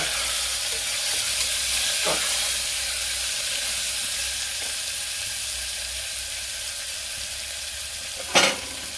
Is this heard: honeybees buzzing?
no